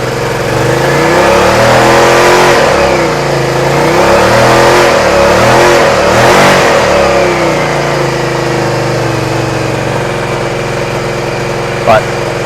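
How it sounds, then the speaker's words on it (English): A cold Suzuki SV650 motorcycle running on choke with a new CDI revs in repeated rising and falling swells over a steady idle, loud and close, with a voice speaking over it. "We have noise. It's a bit of choke on there."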